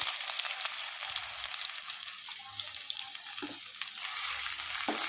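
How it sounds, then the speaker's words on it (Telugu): Thinly sliced onion frying in oil gives a continuous bright sizzle up close, with a few soft knocks of a utensil in the pan. "అదే నూనెలో నేను ఉల్లిగడ్డ అయితే సన్నగా ఇట్లా తరుముకున్నా ఇదైతే వేసేసుకోవాలి"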